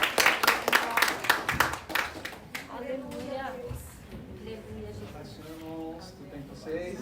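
A church congregation claps and applauds in a burst of sharp, dense handclaps over the first two seconds, then the clapping fades as someone speaks over a quieter room.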